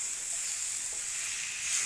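Spices fry over low heat in a pan for a chicken and ridge gourd curry, making an even, continuous sizzle that holds steady throughout with no voices.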